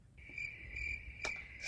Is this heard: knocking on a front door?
no